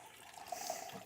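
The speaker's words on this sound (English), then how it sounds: "I'm just filling up the dog's water bowl" Tap running into a dog's water bowl, a faint, soft stream of water with slight splashing, steady and alone over about a second.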